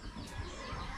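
Chickens clucking nearby among a flock including black-feathered hens, short soft clucks over a busy rural background, fairly faint and close.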